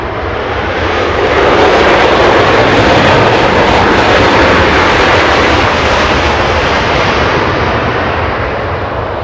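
Delta flight 303 from Atlanta, an airliner arriving at Los Angeles International Airport, makes a loud, steady roar of jet engines that swells slightly and holds throughout, close and powerful with no voices.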